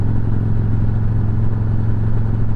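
Victory Cross Country motorcycle cruising at 60 mph, a steady low engine drone mixed with road and wind noise, loud and constant throughout, no talk.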